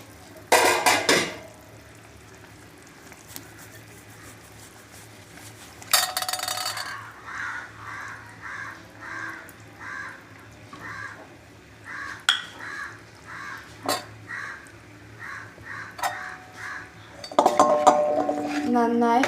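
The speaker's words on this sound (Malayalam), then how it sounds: "നന്നായി ഒന്ന് ഇളക്കി അരപ്പ് മീനിൻ്റെ എല്ലാ ഭാഗത്തേക്കും എത്തിക്കാം." A pot of fish curry is stirred with a utensil, giving repeated metallic scrapes and clinks against the pot, with louder bursts of clattering at the start, middle and end.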